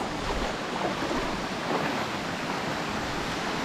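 A jungle waterfall in the Philippines pours as a dense, steady rushing roar of water, broad and continuous with slight wind buffeting on the microphone and no voices.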